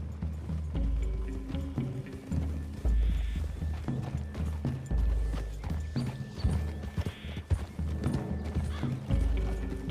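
Horse hooves from the video game Red Dead Redemption 2, repeated clip-clops at a brisk pace with an occasional whinny, steady rhythmic thuds continuing throughout with some mechanical creaks.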